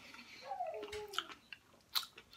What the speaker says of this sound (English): The chocolate topping makes it a little crunchy.